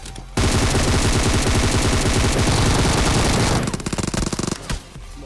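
Loud automatic gunfire in PUBG Mobile comes as a long, rapid burst of close shots, then breaks into a few shorter bursts before stopping.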